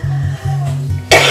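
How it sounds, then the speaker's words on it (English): A few short, harsh coughs from a person with asthma in quick succession, close and fairly loud, ending in a sharper burst. "please excuse my coughing throughout this video"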